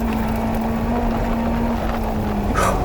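A Honda S2000 race car on the ORP South Loop track drones with a steady engine note and heavy wind rush as it heads into a jump, followed by a brief sharp burst at the end.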